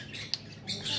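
Zeus the parrot lets out a brief laugh-like squawk, a short burst with a sharp accent near the start, repeated as broken cackling toward the end, close and moderately loud with no talking.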